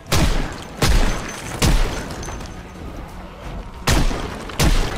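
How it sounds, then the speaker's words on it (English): An M1911 pistol fires five loud, sharp shots at uneven intervals in the Project Zomboid video game, each with a booming echo that decays before the next. "We do have an M1911 that I would love to pull out right now, though"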